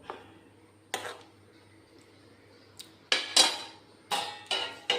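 Metal clinks and scrapes of stirring a pot of mackerel curry made with yogurt over a low flame, about seven sharp bursts spaced irregularly, close and fairly loud over a quiet background.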